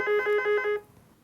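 A telephone rings in a police office with a bright, warbling electronic tone, repeating in four quick pulses before cutting off abruptly into near silence.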